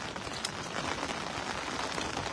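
Rain falling steadily outdoors during a fishing session, a soft continuous hiss of drops with no talk, fairly faint and even throughout.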